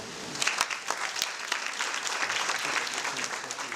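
An audience at a human rights defenders awards ceremony in Kenya applauds the Intersex Persons Society of Kenya, with a few sharp, distinct claps at the start before the clapping thickens into a steady, moderately loud wash.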